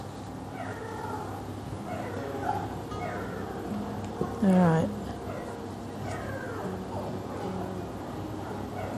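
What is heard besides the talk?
puppies whimpering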